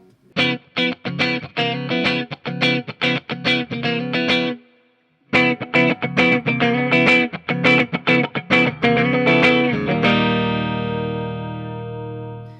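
Distorted 2020 Fender Parallel Universe Vol II Troublemaker Tele Deluxe with custom double tap humbuckers strummed in quick rhythmic chords, a brief pause, then more chugging chords ending on a long ringing sustain.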